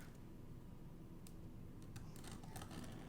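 Several sharp snipping clicks of scissors cutting into packaging, close and quiet, coming in a quick irregular cluster near the end.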